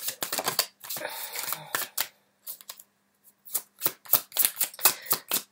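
Tarot cards are riffled, snapped and laid down in quick bursts of crisp flicks and slaps, close by, with short pauses between handling.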